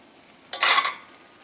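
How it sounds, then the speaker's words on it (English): A metal utensil scrapes across a pan used to sear sesame-crusted tuna with bok choy and shiitake mushrooms, one short, bright, close scrape of about half a second, alone after a quiet lead-in. "You hear that scraping sound."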